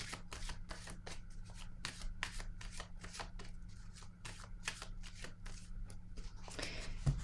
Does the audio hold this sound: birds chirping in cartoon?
no